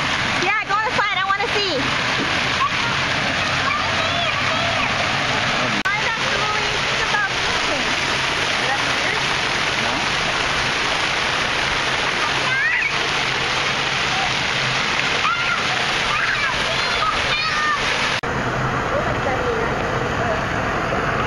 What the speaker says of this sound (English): Water slide.